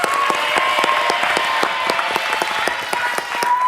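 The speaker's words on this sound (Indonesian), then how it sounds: "Tepuk tangan dong untuk kedua tim." A game-show studio audience claps steadily for two competing teams, with dense, sharp handclaps forming an even, continuous burst of applause at close range and no talk over it.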